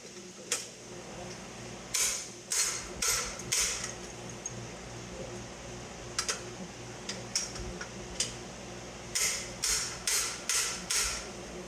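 Sharp metallic hammer blows drive a part into an old Ford Mustang, landing as short clusters of several quick strikes separated by pauses, close and fairly loud over a low background hum.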